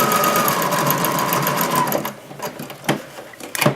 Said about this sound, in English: So I'm going to go ahead, back stitch, and then just sew right along that trace line.